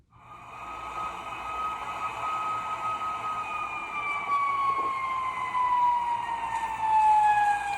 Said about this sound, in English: So let's listen to it again. That was a fire truck.